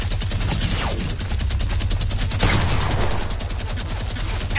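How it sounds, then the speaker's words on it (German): Fortnite minigun firing in a continuous, rapid stream of shots, loud and close, with no pause across the burst and no talking over it. "Der hat so viele Minigun-Schüsse, ja."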